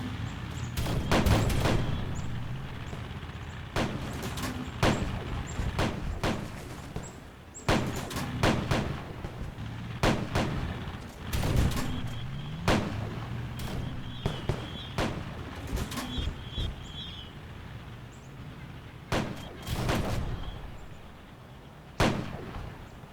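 Tank battle gunfire from a video game beta: repeated sharp blasts and bursts of shots in irregular clusters, separated by quieter gaps with a low rumble underneath.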